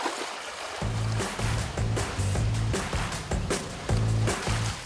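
Waves washing in and out over coastal rocks where seaweed is harvested at low tide on a small island, a continuous close surge with repeated splashes and rushes.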